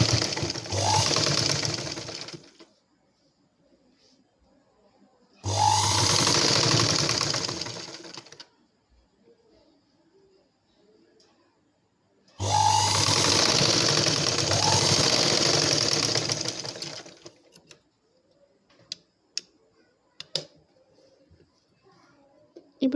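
An electric sewing machine stitches the darts of a blouse in three separate runs, each a steady, loud mechanical whir lasting about three seconds, with quiet pauses between them.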